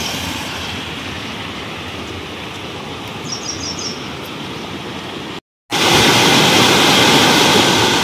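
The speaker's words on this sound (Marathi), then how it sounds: "विराला पाणी बघा ना किती आलंय।" A swollen stream in flood rushes past in a continuous loud roar; after a brief cut the torrent returns even louder and closer.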